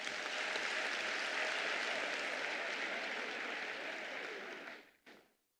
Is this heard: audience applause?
yes